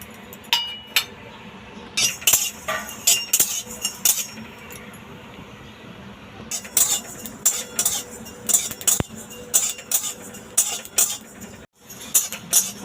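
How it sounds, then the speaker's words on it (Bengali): Fennel seeds dry-roasting in a hot kadai while a spoon stirs them, producing clusters of sharp metallic clinks and scrapes in uneven bursts over a low steady background, close by. "এবার আমি এক চামচ মৌরি নিয়েছি মৌরিটা একটু ভেজে নেব"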